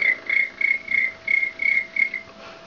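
A voice imitates a cricket with about eight evenly spaced, high, buzzy chirps in a steady rhythm, close and clear.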